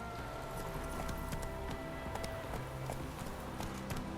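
Horse galloping in The Witcher 3, a steady rapid drumming of hooves under a continuous wash of game sound, moderately faint.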